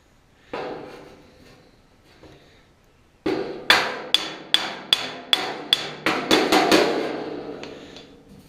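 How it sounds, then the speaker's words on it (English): A flat hammer taps dings out of the steel fender of a 1966 Ford Galaxie 500 convertible, a few sparse knocks followed by a rapid run of about a dozen ringing metallic strikes. "I might use a flat hammer."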